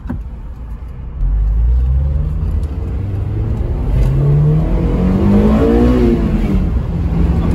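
Honda S2000 engine with a modified intake revving up from a steady drone into a rising, louder induction roar that swells and climbs in pitch, heard close from inside the car, no talking.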